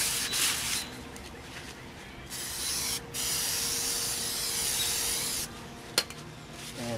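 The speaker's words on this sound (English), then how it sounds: "So here's a little brake cleaner." Brake cleaner sprayed onto the wheel hub of a 1992–99 Chevrolet Suburban 2500 4WD: loud, close hissing bursts that pause briefly and resume, ending with a small knock.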